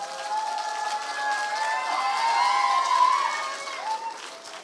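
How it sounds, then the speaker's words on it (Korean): Church congregation at a youth service applauding to welcome the pastor to the pulpit, a steady wash of clapping that swells slightly midway, with sustained instrumental tones ringing underneath. "우리 나오실 때 우리 박수로 환영하도록 하겠습니다."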